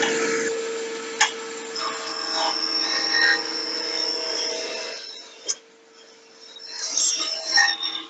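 Wood lathe spinning as a gouge roughs out a wood blank, a steady whine with scraping and tapping cuts and a few sharp knocks, dropping quieter midway before more cutting resumes.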